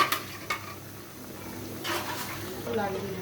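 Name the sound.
pakon pitha frying in oil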